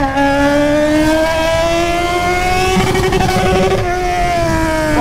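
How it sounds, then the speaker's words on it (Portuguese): Yamaha XJ6 motorcycle with a straight-pipe exhaust roars loud and close, a steady throaty drone that rises slightly in pitch and holds for about five seconds without pause. "mas esse ronco aqui ninguém supera não, filho."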